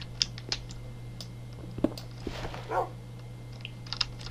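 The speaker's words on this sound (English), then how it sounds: "It's your dog." A dog in the Minecraft video game barks with a few short, faint yips among scattered soft clicks and keyboard-like taps, all quiet over a low steady hum.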